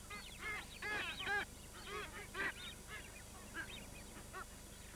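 Masked booby seabirds on the Galapagos give a run of honking, goose-like calls, several overlapping in bursts and faint against the background.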